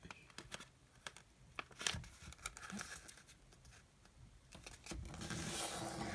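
Sheet of paper being creased and folded into an Action 90 paper airplane, close faint crinkles, taps and sliding rustles in quick irregular bursts.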